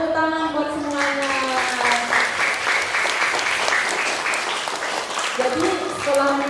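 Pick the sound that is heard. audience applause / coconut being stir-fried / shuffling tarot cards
audience applause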